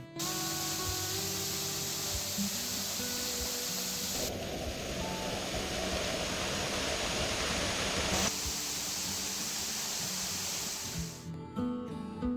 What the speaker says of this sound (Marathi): वरून येऊन तो धबधबा चार टप्प्यांत विभागून पुढे जातोय